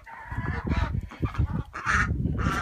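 Several geese honking loudly and close by, overlapping calls in quick succession.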